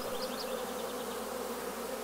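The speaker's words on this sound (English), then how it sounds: "This box is almost full of bees." A honey bee colony hums inside a nearly full hive box, a dense and steady buzz of many bees at close range. Brief sharper whines from individual bees rise above the constant drone.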